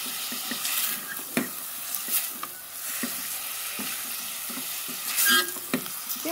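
Onion fries in oil in a home kitchen, a continuous soft sizzle punctuated by repeated stirring scrapes and taps of a utensil against the pan at an irregular rhythm.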